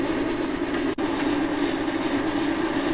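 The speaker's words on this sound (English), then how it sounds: "Another group going up on the helicopter." A steady, droning helicopter engine rumble runs throughout, continuous and fairly loud, with a brief dropout near the start before it resumes unchanged, out on the ice near Churchill, Canada.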